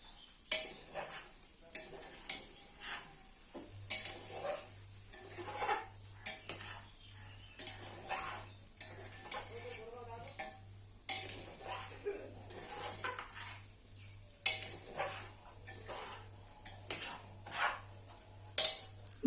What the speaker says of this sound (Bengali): আবারও ভালো করে মিশিয়ে নেবো